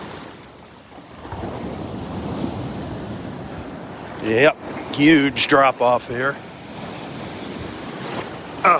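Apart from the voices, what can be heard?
ocean waves at Delnor-Wiggins beach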